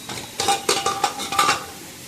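Water spinach (kalmi shak) being stirred and fried in a pan: a handful of quick scraping stirs over a soft sizzle, close and fairly loud, with no talking.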